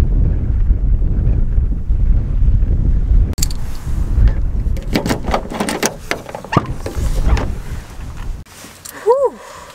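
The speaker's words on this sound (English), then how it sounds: "This is windy. It's windy, kitty." Strong wind by turquoise water roars and buffets the microphone in a continuous low rush, followed by sharper knocks and rattles, with a voice heard faintly near the end.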